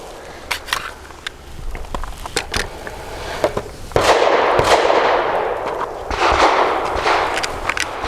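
FN 509 Midsize pistol firing Master Gunworks 142 grain ammunition, a series of sharp, loud reports at irregular intervals with brief echoes, followed by rustling and movement nearby.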